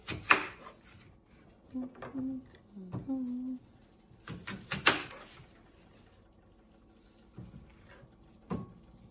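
A knife slicing apples in half with the peels left on, a few separate cuts and knocks on a board between quieter gaps, close and sparse.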